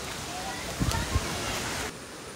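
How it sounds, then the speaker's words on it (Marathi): A small stream at the entrance of the Tambdi Surla Mahadev temple in Goa flows with a steady rushing wash, moderately loud and constant, with a couple of brief thumps partway through and a sudden drop in level near the end. "मंदिरच्या एंट्रीला असा हा ओढा आहे बघा"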